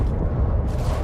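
Orbital airstrike explosion in the Starfield video game, a brief deep rumbling boom with heavy low-end roar, loud and close, lasting about a second.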